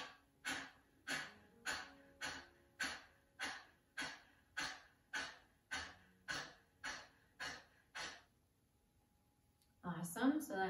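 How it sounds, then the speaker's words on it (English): A person doing Kapalbhati breath-of-fire breathing during a yoga session: about fourteen sharp, forceful nasal exhales in a steady rhythm, close and clear, followed by a pause and then a short burst of noise at the end. "Breath of fire, Kapalbhati breathing."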